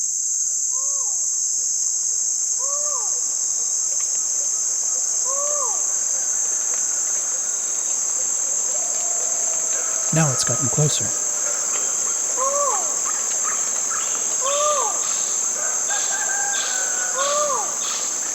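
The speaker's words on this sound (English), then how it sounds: "It's a collared forest falcon," A collared forest falcon gives a repeated nasal cry in tropical forest at dusk, about eight evenly spaced calls, fairly close, over a steady shrill insect chorus, with a brief spoken remark partway through.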